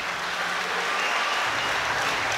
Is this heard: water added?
no